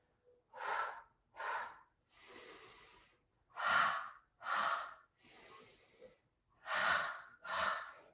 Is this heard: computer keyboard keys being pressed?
no